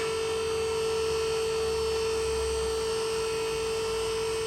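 An AAQ 3000kg hydraulic scissor car lift runs as it raises, giving a steady, loud motor hum and whine that holds constant throughout, close by and with no talking.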